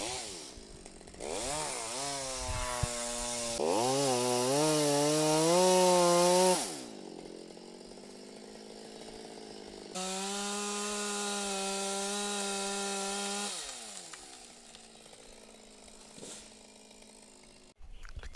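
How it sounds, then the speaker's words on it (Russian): A chainsaw cuts down a leaning tree outdoors, loud and near, its engine revving up hard twice with a pause and idle between the cuts. "Пилить у нас будет Яна."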